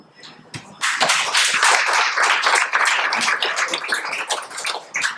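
An audience at a tech and cocktails event applauds an expert panel. The clapping is dense, close and loud, bursting in suddenly after a quiet moment and carrying on steadily, with sharp individual claps standing out.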